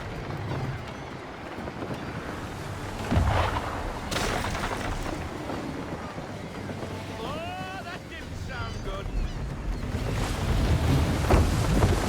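A sailing ship moves over ocean waves in Assassin's Creed 3, with a steady wash of water and wind roar throughout, some creaking and a few tonal calls rising midway, and faint talk underneath.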